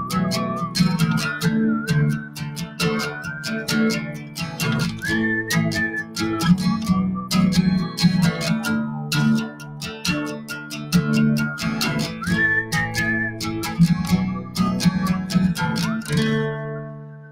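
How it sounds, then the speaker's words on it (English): A person whistles a continuous melodic tune alone, with clear sustained notes and quick changes in pitch, at a steady moderate loudness. "my whistling is not what it should be"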